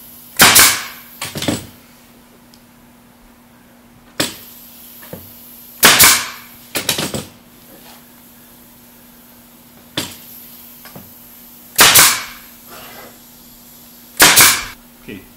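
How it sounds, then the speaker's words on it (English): A 1¾-inch wide crown stapler drives staples into melamine cabinet pieces, firing about nine sharp, loud pneumatic bangs spaced irregularly, some in quick pairs, over a low steady hum. "I use my 1¾-inch wide crown stapler"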